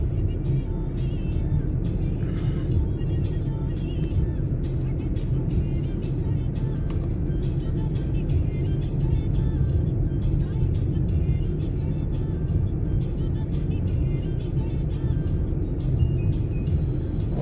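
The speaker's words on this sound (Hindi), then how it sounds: "40-45 के बीच में ही ड्राइव कर रहे हैं।" A Hyundai i20 Sportz petrol hatchback cruises steadily on a highway at a moderate speed, with a constant low engine and road rumble heard from inside the cabin and faint clicks over it.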